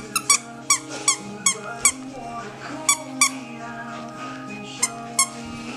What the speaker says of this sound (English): when you squeak it, she likes the squeak toy